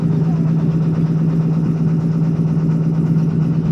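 A boat engine drones steadily on Kaptai Lake, a loud, close, even hum with a constant low throb and no breaks.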